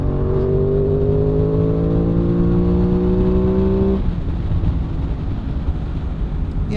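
An Aprilia Tuono 660 motorcycle engine revs up close and steadily to about 5,000 RPM, the pitch climbing smoothly for four seconds before the throttle closes and it drops back toward idle against wind rumble.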